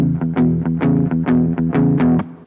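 A clean electric guitar lick repeats with a strong accent on each downbeat, punchy plucked notes in a steady pattern, close and alone without any speech.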